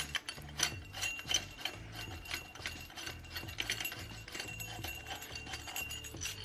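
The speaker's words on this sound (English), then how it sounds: "take this screw out of there" A screw on a car's harmonic balancer is backed out with a hand tool, producing quick, rhythmic metallic ratcheting clicks in a continuous close-up burst, with no voices over it.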